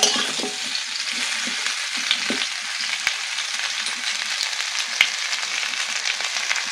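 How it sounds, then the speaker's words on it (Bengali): Mango pieces sizzle steadily as they fry in a pan for a jaggery mango pickle. The frying is close, even and continuous, with a few small pops. "যখন আমগুলো ভাজবেন দেখবেন যেন আমগুলো গলে না যায়"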